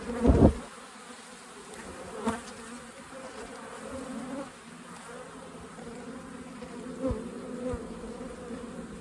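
Honeybees from an opened hive on a cold Canadian day keep up a steady close buzzing drone, broken by a few soft knocks from the frames.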